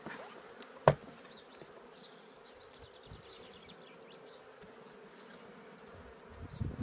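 Honey bees hum around an open hive with brood, a soft continuous buzzing close by, broken once early by a sharp knock or bump.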